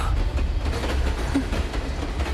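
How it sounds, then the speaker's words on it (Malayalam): A train runs along railway tracks nearby, a heavy low rumble with a steady rhythmic clatter of wheels over rail joints, loud and continuous throughout with no voices. "കേൾക്കുന്നില്ലേ ട്രെയിനിന്റെ ശബ്ദം?"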